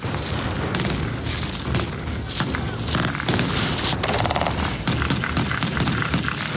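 Machine gun fire during a commando assault demonstration beside an armoured vehicle on Réunion Island, a dense continuous barrage of loud bursts and booms filling the whole stretch without pause.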